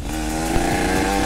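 Yamaha RX King two-stroke motorcycle engine revving steadily and loudly close by, a continuous buzzing drone with throttle blips, no voices.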